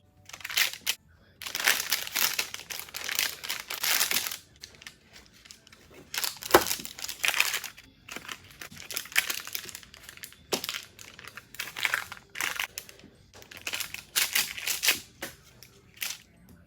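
A knife slices through a pan of frosted cosmic brownies, cutting them into squares in a series of close, crisp scraping and crackling bursts separated by short pauses.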